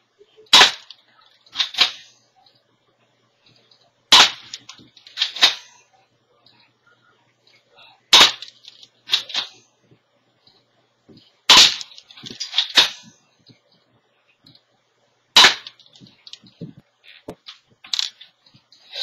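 Crosman Night-Prowler air rifle fired at a target 35 feet away, giving about five sharp, separate shots spaced a few seconds apart, each followed by quick smaller impact clicks, loud and close with no talking.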